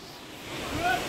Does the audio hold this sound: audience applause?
no